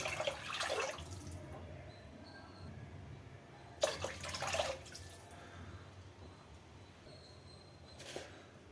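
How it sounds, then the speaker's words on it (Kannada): Four glasses of water poured over two glasses of rice in a pressure cooker. There are faint, short splashing pours in a few separate bursts over a low, quiet background. "ಅದಕ್ಕೆ 4 ಲೋಟ ನೀರು ಹಾಕೋತೀನಿ."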